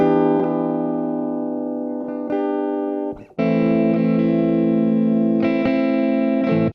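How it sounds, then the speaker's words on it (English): Clean electric guitar chords strummed and left ringing, with a brief gap midway before the chords resume, steady and fairly loud, no distortion or effects. "That's a really nice, kind of clean guitar sound."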